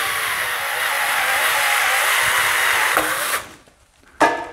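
A power drill bores holes in a fuel transfer tank fitting for a new hose and cut-off nozzle, whining loudly and steadily for about three seconds, stopping, then briefly spinning up again.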